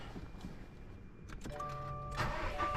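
A stock 2021 Subaru STI engine cranks and catches about halfway through, settling into a steady idle with a faint electronic chime from the gauge system check, heard close without talk.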